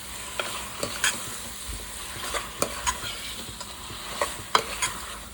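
Fish heads are stirred into a sizzling spice masala in a pan, with a steady frying hiss broken by scattered scraping clicks of the spoon against the pan, close and fairly loud.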